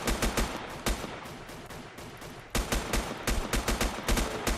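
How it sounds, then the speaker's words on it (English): Gunfire in the survival game Next Day Survival: repeated sharp shots in quick bursts, a short lull midway, then another rapid volley, all loud and near. "There's shots"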